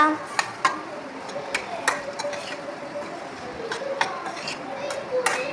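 Masala-coated mango pieces being stirred in a pan, with a spoon scraping and clinking against the metal in irregular, close taps over a soft continuous hiss.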